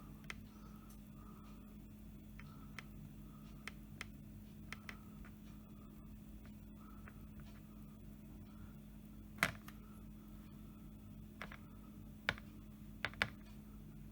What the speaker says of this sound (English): I'll just type that in as well.